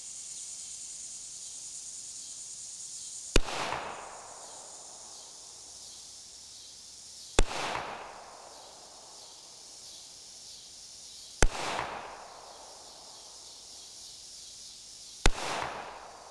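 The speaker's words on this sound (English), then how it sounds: "Now I'm going to attempt to shoot 4 shots using just the laser." Four evenly spaced pistol shots from a Kimber Custom Crimson Carry II at an outdoor range, each a sharp crack with a decaying echo, about four seconds apart over a quiet background with a high insect-like whine.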